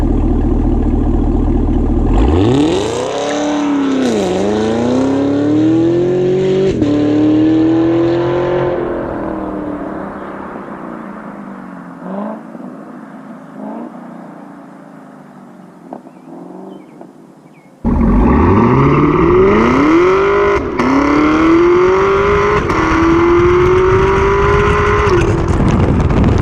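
A Cadillac CTS-V and a Porsche 718 Cayman GTS accelerate hard in Mexico, with a loud engine roar that climbs through the gears on rising pitch sweeps, then eases off. Another full-throttle pull starts abruptly and climbs again.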